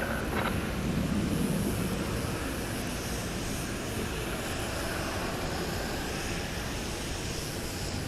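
A 14-year-old Korean Air Boeing 747-8 freighter at DFW Airport at night gives off a broad continuous engine roar that stays steady and loud, with no talking.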